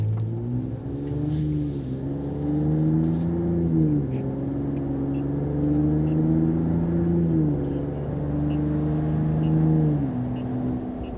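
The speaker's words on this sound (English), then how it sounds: "we're gonna do just some normal everyday driving. No, no full throttle or anything like that" Ram RHO truck fitted with an AWE exhaust at ordinary everyday driving pace, a steady low engine drone heard from inside the cab that dips and swells with gear changes and light throttle.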